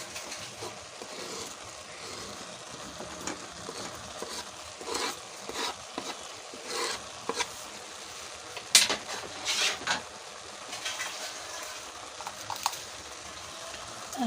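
Onion and tomato cooking in a pot with wakame on the stove, a quiet, continuous sizzle broken by light clinks and stirring scrapes of a utensil against the pot.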